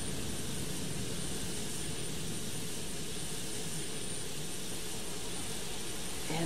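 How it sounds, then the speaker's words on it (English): Jet engines of a Boeing 727-100 spooling down in Flight Simulator X, a steady, dense roar that holds at an even level without any voices. "With that, we can now shut down engines."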